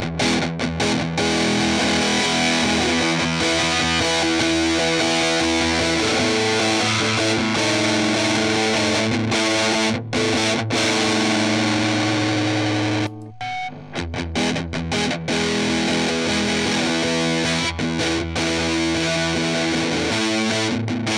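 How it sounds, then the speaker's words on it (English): An electric guitar played through two Big Muff fuzz pedals, a Nano Bass Big Muff and a Green Russian Sovtek, with the tone knobs at 3 o'clock, gives thick, heavily distorted sustained chords and riffs, loud and continuous with one brief gap. "now I'll put the tone at 3 o'clock on both pedals"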